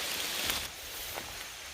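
Steady rain hisses and patters on surfaces along the Tecumseh Trail, a continuous wash of soft noise with a few sharper drops.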